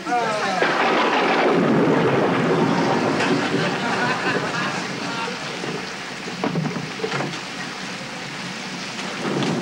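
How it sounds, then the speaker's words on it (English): Heavy rain pours down in a steady, dense roar, with a deep rumble underneath that swells early and eases slightly later. "Outside pouring with rain, the boy will get soaked to death."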